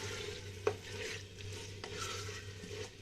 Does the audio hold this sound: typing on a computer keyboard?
no